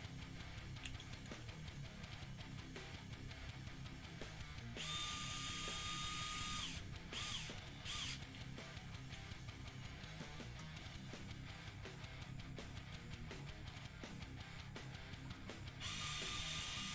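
A screwdriver drives small 440 screws into a Neo-Geo themed Panzer fight stick, giving soft, quiet ratcheting clicks and scraping turns with brief higher whines, close and steady throughout with no talk.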